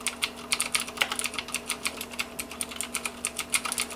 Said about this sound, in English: Have a listen at the typing noise.